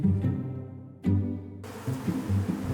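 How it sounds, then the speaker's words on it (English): Angry honey bees swarm out of a hive in an old shed, their buzzing drone rising and falling with a couple of sharp breaks, followed by a burst of broadband noise close to the recorder. "All of a sudden, out of nowhere, the bees woke up and they were mad."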